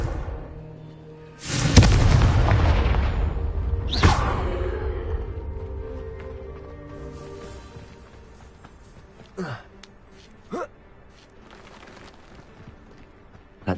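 The Confringo fire spell explodes in Hogwarts Legacy as a loud blast with a whooshing rush and a long rumbling tail, followed by a few sharper impacts.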